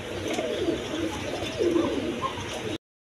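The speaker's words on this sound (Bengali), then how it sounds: "এক পেয়ার রেঞ্জ কবুতর আছে" A pair of range pigeons cooing nearby, soft low throaty coos repeating over a faint steady background hiss before cutting off.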